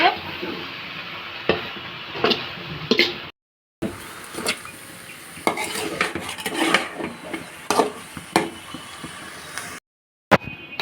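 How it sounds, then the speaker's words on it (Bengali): Helencha greens and potatoes fry in a pan under repeated scraping stirs and clinks of a metal spoon, with a soft steady sizzle between the strokes and two brief dropouts of silence. "তা আমার শাকটাকে উল্টে পাল্টে দিচ্ছি"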